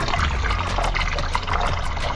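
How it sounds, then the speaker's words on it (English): Hot water poured into a snake's soaking tub, a steady close trickling and splashing stream running continuously without a break, with no talk over it. "Pay very close attention to where you pour in the water, because you definitely don't want to risk him coming back up under it because it's hot water."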